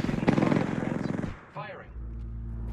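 Rapid automatic gunfire in the battle royale shooter Apex Legends, a dense rattling burst for over a second, then it cuts off into game ambience with a soft hum and a swooshing effect.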